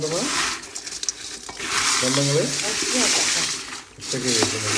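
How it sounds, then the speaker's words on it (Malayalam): Jackfruit pieces deep frying in hot oil in a home kitchen, a steady close sizzle and bubbling running throughout, with brief stirring splashes and a voice talking over it. "ഇമ്മച്ചി മുറിച്ചിട്ട ചക്ക ഫ്രൈ ഇതാ ഇവിടെ ഫ്രൈ ആയിക്കൊണ്ടിരിക്കുന്നത്"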